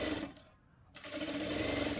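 Sewing machine stitching the side seam of a blouse, running steadily and close, with a brief pause partway through before the motor resumes.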